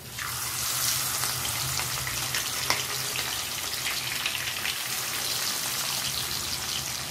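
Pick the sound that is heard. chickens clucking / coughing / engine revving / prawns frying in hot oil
prawns frying in hot oil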